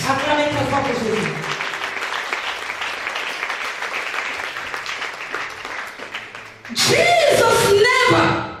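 A church congregation applauds for a long stretch as a dense, steady wash of clapping. Near the end a voice shouts over it, with the crowd noise swelling again.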